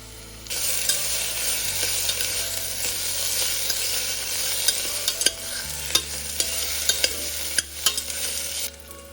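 Chopped onions with a tablespoon of ginger garlic paste sizzle steadily in a pan, with a continuous close frying hiss and occasional sharp stirring scrapes and taps.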